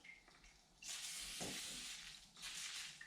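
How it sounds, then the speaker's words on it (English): A short burst of WD-40 sprayed onto a new grease-packed Oliver edge sander part, a close, hissing aerosol spray that starts about a second in and runs steadily, with a second spray burst following near the end. "Let's take a little WD-40 to this in here and see if that cuts that grease."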